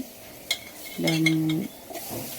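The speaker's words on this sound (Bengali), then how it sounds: "একটু ভালো করে চুলাতে নেড়ে চেড়ে নিচ্ছি" A coconut, sugar and ghee filling for patishapta pitha is stirred in a pan on the stove, with a few sharp scrapes and clinks of a utensil over a soft sizzle and a brief hum from a voice.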